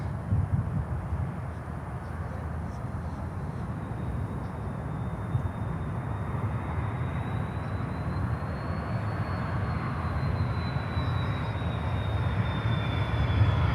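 An Aerolineas Argentinas airliner in special livery at Miami, its steady engine roar filling the scene continuously, broadband and sustained with a faint rising whine, no talk.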